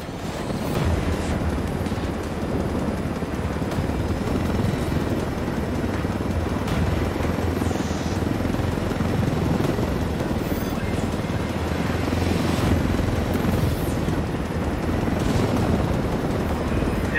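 A helicopter flies in the video game Ghost Recon Wildlands, its rotor and engine producing a steady, loud, wash-like drone that holds constant throughout.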